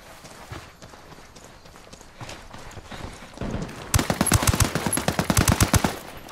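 Rapid bursts of automatic gunfire in a military video game, scattered shots early then a loud, close, rhythmic machine-gun stream in the second half.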